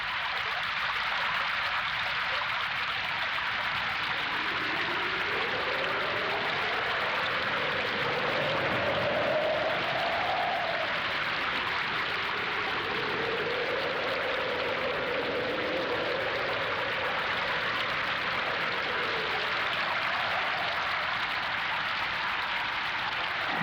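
Steady rain falls in a dense, even hiss that lasts throughout, with faint rising and falling tones underneath.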